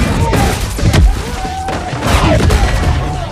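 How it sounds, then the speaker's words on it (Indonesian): Gunshot striking a character in a superhero film fight scene, a loud booming impact near the one-second mark amid dense crashing action effects and rumbling background. "Tiba-tiba sebuah tembakan menghantam Jaime"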